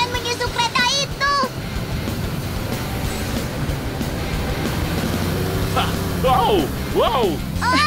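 A cartoon train in Tayo the Little Bus rumbles steadily along under music and engine noise, with bright whistling tones and sweeping effects near the start and end.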